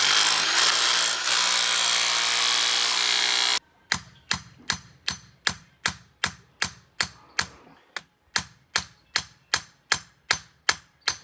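A rotary hammer gives a steady loud mechanical roar for a few seconds, then a rapid series of sharp, regular hammering blows driving a rod, close and percussive, with brief pauses between bursts.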